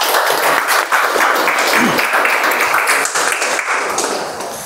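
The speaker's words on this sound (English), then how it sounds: "So a round of applause to all the speakers." Audience applause at a speaking-club meeting after the prepared speeches, a dense, steady wash of clapping from many hands that fills the whole stretch and tapers slightly at the end.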